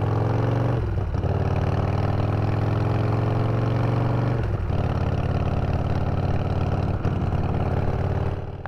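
A Harley-Davidson motorcycle engine idles loud and close with a deep, lumpy rumble, briefly blipped and settling twice, running throughout with no talking.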